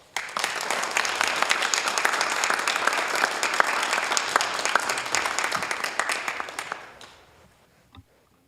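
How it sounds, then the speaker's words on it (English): A city council chamber audience gives a sustained round of applause for public safety telecommunicators, crisp dense clapping that holds steady, then fades out with a few last claps near the end. "can we give them a big round of applause?"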